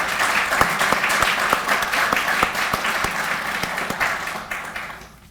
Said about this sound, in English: if all of you again could join me in a quick round of applause for Betsy